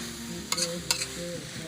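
Spicy rat meat stir-fried in a pan, a continuous sizzle with two sharp scraping clacks of a spatula against the pan, close and clear, with no talking.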